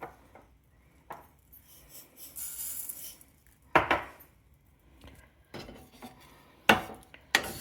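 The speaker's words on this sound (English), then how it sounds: "I'm dry roasting 2 tablespoons of black mustard." Dry-roasting black mustard seeds in a pan, heard as soft scattered rattles and scraping stirs with a few sharper metallic knocks of utensil against the pan, close by with quiet gaps between.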